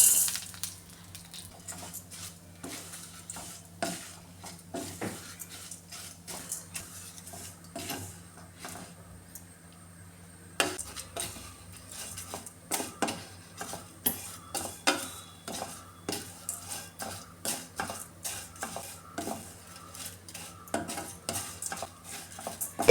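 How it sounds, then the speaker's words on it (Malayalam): Vermicelli roasting in ghee for vermicelli kheer, stirred steadily with a metal spoon against the pan, giving repeated close scrapes and clinks over a faint sizzle, with no talking. "സേമിയ ഒന്ന് വറുത്തെടുക്കാം നെയ്യിൽ."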